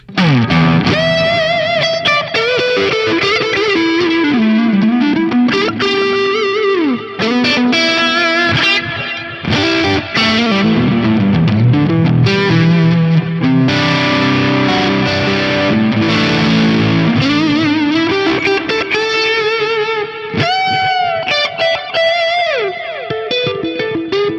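Electric guitar played on the neck pickup through overdrive on an Axe-Fx III modeler with dynamic distortion on, a smooth sustained lead line with chords and bends, loud and continuous without talk.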